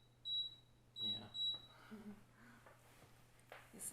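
Electric water warmer for tea gives a few short high-pitched beeps, a pair then a trio, fairly faint and close, with quiet voices talking in the background.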